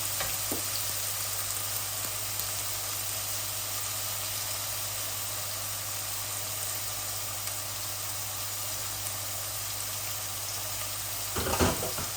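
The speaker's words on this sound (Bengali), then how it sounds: "বেশি ভাত না, অল্প একটু ভাত ভাজি করতেছি।" Rice frying with a large chopped onion in a pan gives a steady, close hiss and sizzle for the whole stretch, and a short clatter of stirring comes near the end.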